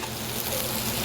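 Already-cooked potatoes sizzling in hot bacon fat in a pan, a dense steady frying hiss, close and continuous for a brief moment.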